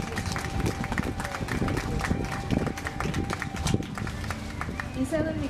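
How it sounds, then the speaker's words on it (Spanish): An audience at a book presentation in Cholula, Puebla breaks into sustained applause for the book's authors, a steady patter of many clapping hands with voices mixed in. "Para quienes les pido un fuerte aplauso"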